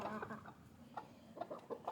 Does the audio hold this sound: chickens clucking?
yes